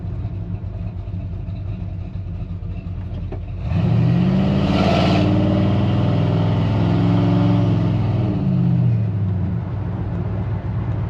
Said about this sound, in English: if I hold down the brake and gun it, I can make those tires spin